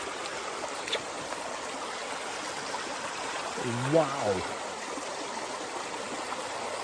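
A small wilderness creek runs steadily over stones, a constant close babble of water throughout, with a brief vocal exclamation near the middle.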